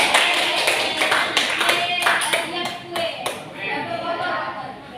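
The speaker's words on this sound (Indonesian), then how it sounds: "tepuk tangan dulu" A classroom of pupils claps during a science lesson on electric circuits, lively close clapping with sharp irregular claps standing out, mixed with children's voices.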